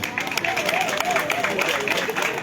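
Crowd applause at an outdoor political rally for President Gbagbo in Adjamé, a dense steady patter of clapping lasting a few seconds with a voice sounding over it.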